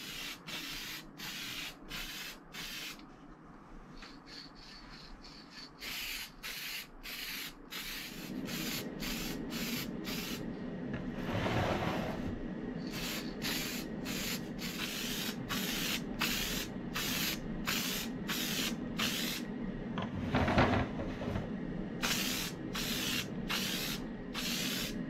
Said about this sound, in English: we'll paint a couple of these with the two different cans of paint